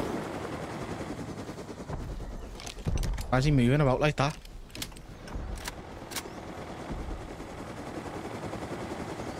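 A minigun in a modded raid and PvP shooter game fires in one sustained, whirring burst lasting about a second and a half, with a voice talking before and after it.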